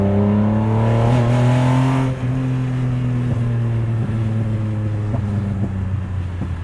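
A custom 1974 Datsun Fairlady 260Z with a stroked engine on Weber carburetors revs loud and close, its steady engine drone holding through a brief throttle lift before settling into a lower, even rumble.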